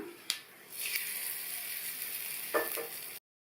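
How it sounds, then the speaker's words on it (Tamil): Steady crackling and spluttering of mustard seeds frying in hot oil, with a few louder pops near the start and end, close and fairly quiet. "கடுகு நல்லா பொரிஞ்சிருச்சு"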